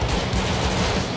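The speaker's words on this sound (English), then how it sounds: "So everybody's shooting at him, but he is not getting taken out." Dense, continuous gunfire from many shooters in a GTA 5 prison riot mod, overlapping shots packed into a steady, loud barrage with no pauses.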